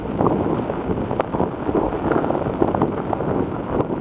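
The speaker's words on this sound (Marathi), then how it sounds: "पाऊस काय थांबायचं नाव घेत नाही" Steady, dense downpour in Chikhale Vadaktipada hissing over everything, with gusty wind and occasional low rumbles underneath, no voices.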